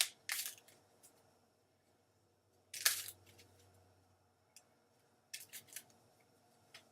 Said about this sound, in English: I'm going to shuffle the cards a little bit more